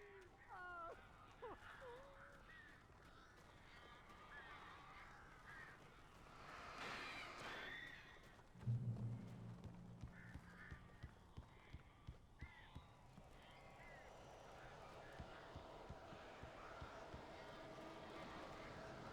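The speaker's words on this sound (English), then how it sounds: "These birds are weird." Crows caw harshly in the Alan Wake video game, repeated calls mixed with game sounds and running footsteps, while voices talk over parts of the scene.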